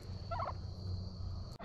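Turkeys near a feeder on a property where wood chipping is under way, one short burst of gobbling calls rising over steady low machine hum, fairly close and moderately loud, no talking.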